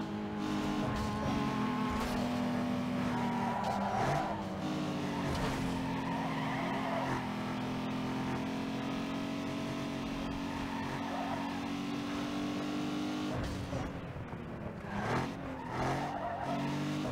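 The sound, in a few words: car drifting, tires squealing in Need for Speed Underground 2 video game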